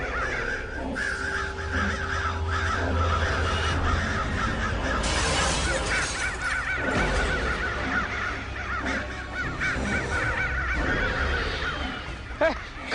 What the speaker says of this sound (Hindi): इतना सारा कौवा उड़ रहा है, लेकिन एक भी कौवा खाना ही नहीं खा रहा।